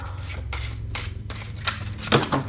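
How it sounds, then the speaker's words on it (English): Tarot cards being shuffled back into a pile by hand: a series of quick papery riffling bursts close to the mic, repeated several times in an uneven rhythm over a low background hum. "I'm just going to shuffle them right back into the pile"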